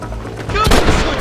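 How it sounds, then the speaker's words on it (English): Gunfire in the Western video game Red Dead Redemption, a loud, close burst of sharp shots packed into about a second over a dense, noisy background. "Stop shooting at me!"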